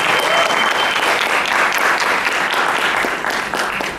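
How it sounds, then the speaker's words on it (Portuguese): Sustained audience applause fills a cultural seminar hall on tattoo art in Mogi das Cruzes, a dense, loud wash of clapping holding steady for the full stretch with faint crowd murmur beneath. "Salva de palmas."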